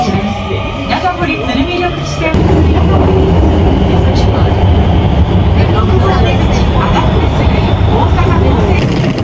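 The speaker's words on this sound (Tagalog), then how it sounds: "We just exited the train." A train in Japan gives a loud, steady rumble that swells sharply about two seconds in and then holds, with indistinct voices mixed into the din.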